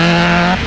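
An Opel Ascona rally car at the 1985 Scottish Rally in Glasgow's Bellahouston Park gives a loud, close engine drone. The note is steady and sustained, then eases slightly at the end.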